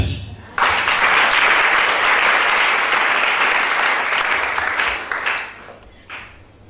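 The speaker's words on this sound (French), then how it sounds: "Acclamez Shaddai." Church congregation applauding, a loud sustained burst of clapping that starts abruptly and slowly thins out, with a brief swell near the end.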